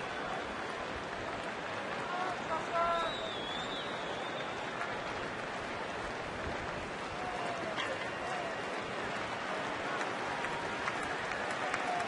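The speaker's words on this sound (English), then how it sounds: "Crowd trying to help out their young catcher." Baseball crowd at a Twins–Brewers game in Milwaukee keeps up a steady, broad murmur of cheering and clapping behind a full-count at-bat, with a few whistles rising through the sustained roar.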